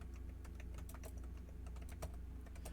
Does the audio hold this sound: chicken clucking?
no